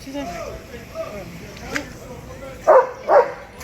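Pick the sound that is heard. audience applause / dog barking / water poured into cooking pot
dog barking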